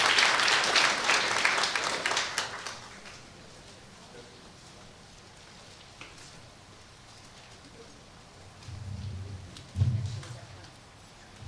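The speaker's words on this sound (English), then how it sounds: "So round of applause for Judge Joe Benavides" Audience applause at a drug symposium in Corpus Christi starts loud and dense, then tapers away over a few seconds, followed by quiet room tone and a few later thumps and handling bumps.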